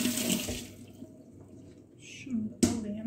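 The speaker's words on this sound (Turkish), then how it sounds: "Ben tekrar bir ellerimi yıkayayım." Tap water runs and splashes into a kitchen sink while hands are washed, with a brief pause and then a sharp splash near the end.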